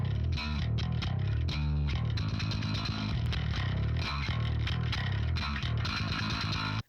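Heavily distorted, grinding bass guitar riff, loud and dense throughout, with a steady chugging rhythm and buzzing upper overtones.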